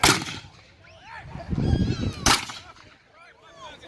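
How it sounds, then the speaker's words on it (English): Musket fire at a redcoat battle reenactment: a loud close shot near the start and another sharp crack at mid-clip, with distant rumbling volleys and bird-like squeaks between them. "How many rounds have we had off so far, German?"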